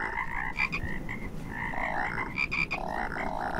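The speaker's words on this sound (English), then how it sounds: "Ah, the frogs!" Frogs croak steadily in the video game Rain World, a dense chorus of repeated, evenly paced calls that continues alone with no talking.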